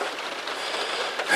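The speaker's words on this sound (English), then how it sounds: "This rain is pounding it down." Heavy rain pours down steadily outdoors at a trout stream in southern Ohio in December, a dense continuous hiss of drops close around, with no talking.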